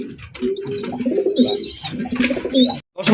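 A racer pigeon coos in soft, low, rolling throaty phrases close by, with a few brighter chirps from other birds mixed in and a short pause near the end.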